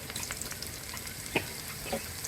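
Dry red chilies, garlic, chopped onion and whole cumin fry in hot oil with a steady close sizzle, broken by a couple of sharper pops and small spatters.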